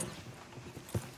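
Horse hooves clip-clop in the video game Red Dead Redemption 2, a faint run of soft rhythmic thuds with one heavier knock near the end.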